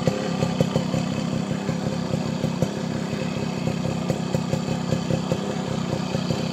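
A Yamaha RXZ motorcycle engine with a quick throttle and PWK 26 carburetor runs steadily at idle nearby, giving a continuous rattling two-stroke putter with regular ticking pulses.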